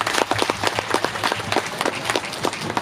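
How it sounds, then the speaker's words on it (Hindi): Guests at an engagement ceremony in Jharkhand clap together in a lively, fairly loud burst of distinct, closely spaced handclaps that continues steadily for a few seconds. "इसलिए सबको इस खुशी में जोर से तालियां बजा दें"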